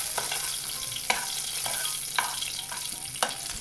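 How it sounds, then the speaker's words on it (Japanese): Eggplant fries in hot oil in a frying pan with a steady, close sizzle. Several sharp scraping strokes and clicks from stirring break through at regular intervals. "ここからですねナス一旦揚げていくので、フライパンの上にナスを逃がす。"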